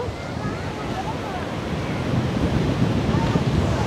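Sea surf rolls in at Patuartek beach near Cox's Bazar, a broad continuous wash of breaking waves mixed with gusty wind buffeting, swelling slightly louder toward the end.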